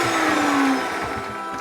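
A blender pulverizes oats for healthy chocolate pecan truffles, a steady loud motor whir that drops slightly in pitch partway through and keeps running, with no voices.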